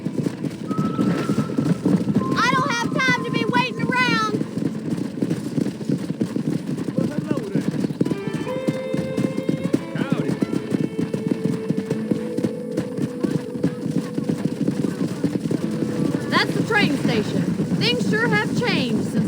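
Horses in a Red Dead Redemption corral: hooves clip-clop in a steady rhythm while several neighs and whinnies rise out over it, with background talk and outdoor ambience running underneath.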